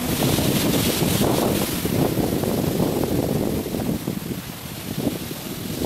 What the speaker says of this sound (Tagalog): Lakas ng hangin guys, oh.